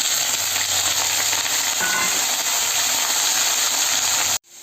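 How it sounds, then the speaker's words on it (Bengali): Potatoes and pointed gourd frying in hot oil in a wok give a steady, bright sizzle lasting several seconds before cutting off abruptly; no voices are heard. "ভেজে নেবো।"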